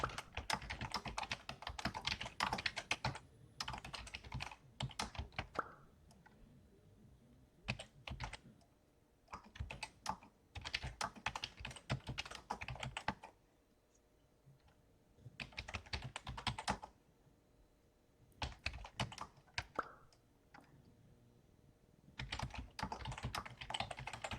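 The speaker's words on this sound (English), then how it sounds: "Is that your sound, Judith, of you typing, or is that?" Steady typing on a computer keyboard, rapid clattering keystrokes in bursts separated by short pauses, close and fairly clear.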